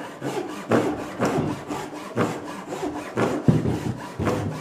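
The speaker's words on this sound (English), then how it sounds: "See that little spine saw struggling on this spine?" A small spine saw cuts through wood in a tiny workshop bench build, its strokes rasping in a steady back-and-forth rhythm of about nine close, loud pulls with no talking.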